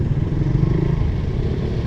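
A Suzuki Raider Fi 150 motorcycle rides along a road, its engine a steady close rumble with some clattering wind noise and no talk.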